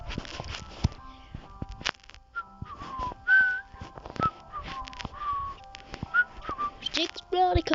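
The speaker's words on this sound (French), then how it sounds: "J'explore l'école en sifflant." A person whistles short melodic phrases while exploring a school in a Roblox game, close and intermittent, mixed with clicks, footsteps and a few sharp cracks.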